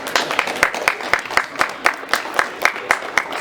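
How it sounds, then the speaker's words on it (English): Applause from a campus audience greeting a panel of conservative women, heard as a steady, evenly spaced run of distinct claps at moderate distance, sounding like a few hands clapping in rhythm rather than a full crowd. "can we give a round of applause for all the conservative women panelists we have here today?"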